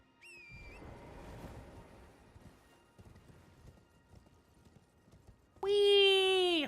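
A horse gallops in Elden Ring, its hooves clopping in a quick rhythm at moderate volume while a voice talks over it, and a loud tonal burst cuts in at the end.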